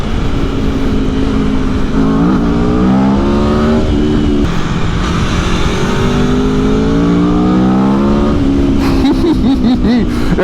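A 2021 Aprilia Tuono V4 Factory naked motorcycle engine revs hard through repeated upshifts, pitch climbing and dropping at each gear change, loud and close with wind roar on the road.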